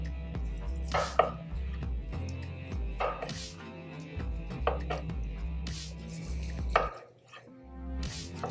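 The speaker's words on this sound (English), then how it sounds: "put the steak on your cutting board, and I'm gonna start slicing" A knife slices through a cooked NY striploin steak on a cutting board, with several soft cuts spaced a couple of seconds apart over steady background music.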